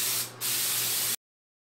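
Rocktop concrete sealer sprayed onto a surface: a loud, steady hiss of spray alone that drops briefly partway through, then resumes and stops abruptly.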